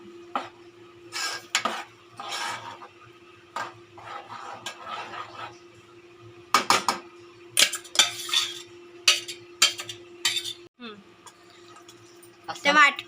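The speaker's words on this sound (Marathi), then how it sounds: "सगळ्यावर वाटप असा मिक्स करायचा" Masala paste being stirred into a pot of pomfret curry, with repeated scraping and clinking of a spoon against the pot in irregular bursts, close by, while someone talks throughout.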